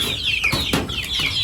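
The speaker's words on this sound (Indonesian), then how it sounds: "Jadi ayam kampung ini juga butuh perhatian khusus dia" Free-range village chickens about a month old cluck repeatedly, close and fairly loud. Overlapping calls rise and fall in quick bursts, with no talking.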